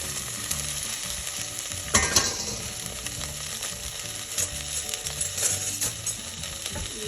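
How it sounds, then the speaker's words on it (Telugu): Broccoli pieces hit a hot pan with ginger garlic paste, giving a steady sizzle and frying crackle with scraping stir sounds and a sharper spatter burst early on; no talk. "నేను బ్రాకలీ ముక్కలు వేసేసుకుంటున్నాను."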